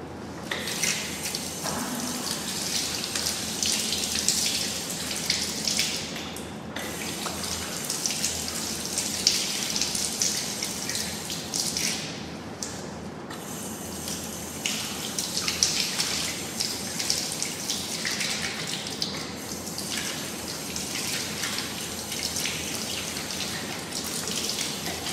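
During ablution, water runs and splashes steadily as feet are washed, a continuous close rush of water with a couple of brief pauses.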